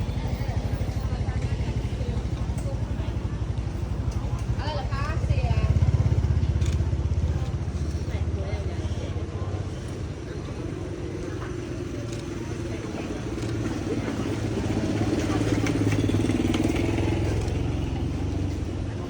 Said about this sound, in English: there's a guy coming down with like towing a cart behind his motorcycle